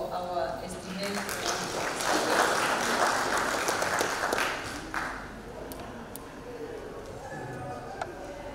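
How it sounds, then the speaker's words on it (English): Audience applause for a panel at a farmer-organisation financing event, clapping rising to a peak around the middle and then tapering into scattered claps, with talking audible over the fading end. "A round of applause for our esteemed."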